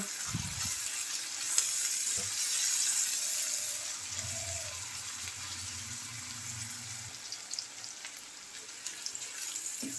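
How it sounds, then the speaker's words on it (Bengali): Chopped onions fry lightly in a generous amount of hot oil, a steady close hiss and sizzle running throughout with a few faint knocks and clicks from the pan. "পেঁয়াজ কুচি দিয়ে দেব দেড় কাপ পরিমাণ পেঁয়াজটা হালকা ভেজে নেব"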